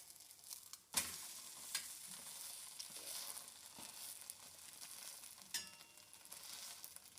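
Egg-coated bread slices frying in a pan for a homemade egg bread recipe, giving a steady close sizzle with a few sharp spatula clicks and scrapes as they are turned, with no talking.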